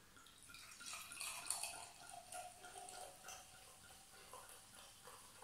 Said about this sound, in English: So I'm going to pour the first glass, which I hope will be a relatively clear glass of sparkling wine.